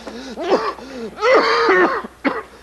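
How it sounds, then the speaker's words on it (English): Several harsh coughing and throat-clearing bursts from an adult indoors, loud and close, in three separate fits with short pauses between them and no speech. "You shouldn't cough like that."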